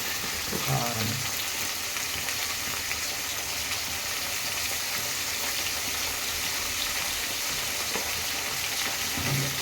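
Vegetables with turmeric and chili simmer and fry in oil in a pan for vegetable curry, giving a steady close sizzle throughout with a few faint stirring clinks.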